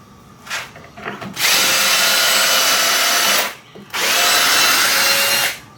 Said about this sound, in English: the other thing I'll do is preload all these drilled holes with the screws.